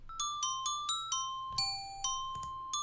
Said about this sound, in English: So bells basically.